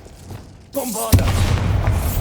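A Bombarda blasting-spell explosion in the Hogwarts Legacy video game, a voiced spell call quickly followed by a loud booming blast that lingers as a rumbling tail.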